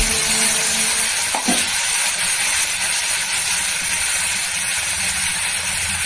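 Masala with Kashmiri chilli and a pinch of sugar fries loudly in a pan for rohu kalia, a dense close sizzling hiss with a brief stir or scrape early on.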